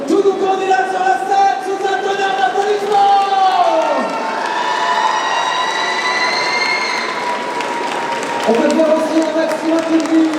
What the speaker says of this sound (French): veuillez accueillir tous nos candidats sur la scène sous un tonnerre d'applaudissements